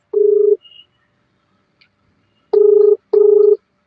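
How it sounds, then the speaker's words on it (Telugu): A phone call rings out on the line as a loud, clear ringback tone, with three short buzzing bursts, the last two close together, and no voices. "ఇప్పుడే రింగ్ అవుతుంది గైస్, ఎత్తుతాడో లేదో చూద్దాం"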